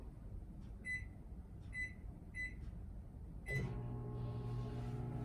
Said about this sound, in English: we're going to put this in the microwave